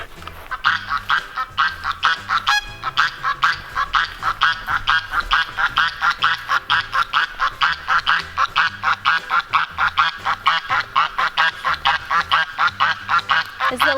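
Farm flock of geese and about fifty laying hens, a steady run of loud, rhythmic quacking and honking calls repeating several times a second, close and alone with no talk.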